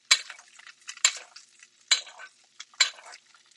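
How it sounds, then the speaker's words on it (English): Frothy butter sizzles around steak in a frying pan, coming as four loud, close bursts of spattering hiss with brief quiet gaps between them. "once the butter gets all frothy and stuff, you know it is fabulous"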